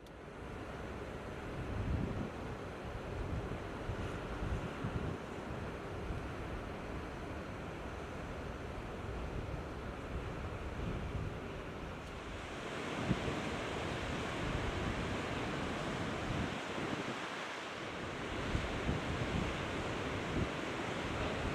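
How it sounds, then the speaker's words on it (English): Rough Atlantic Ocean surf crashes against sand dunes in a continuous, loud roar of breaking waves mixed with gusty wind rumbling across the microphone. "The rough and mighty Atlantic Ocean, huge waves crashing against sand dunes."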